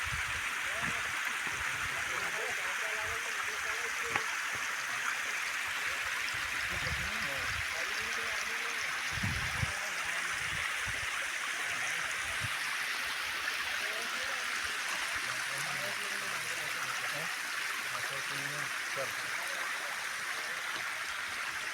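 Water flows steadily near Umbardev cave, a continuous rushing wash that stays even throughout while someone talks over it.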